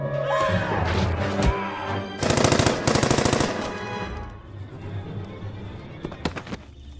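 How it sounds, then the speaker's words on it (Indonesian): Rapid automatic gunfire in a film action scene, dense bursts of shots with a heavy sustained volley in the middle, followed by scattered single shots and thuds over background sound. "Lagi-lagi, salah satu dari mereka tertembak dan langsung tewas di tempat."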